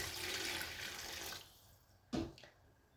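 Water pours into a cooking pot for meat being boiled, a steady splashing stream for about a second and a half that stops, followed by a sharp clank of the pot and a fainter knock, fairly quiet and with no talk.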